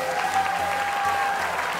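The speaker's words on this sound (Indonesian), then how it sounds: "Tepuk tangan buat Richard, tepuk tangan dong" Applause from a studio audience at a talent show audition, a dense, steady clapping that fills the whole stretch without pause and with no voice on top.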